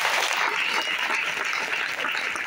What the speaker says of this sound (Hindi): ये जोरदार ताली सर देने के लिए